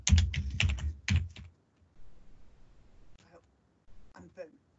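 Computer keyboard typing in dense rapid clusters of loud clicks near the start, followed by quieter scattered keystrokes and short pauses, with a voice talking briefly between them.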